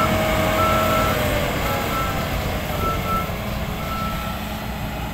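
Sugarcane harvester working a sloped cane field sends out steady reversing beeps over a constant, loud diesel engine rumble, continuous throughout with no talking.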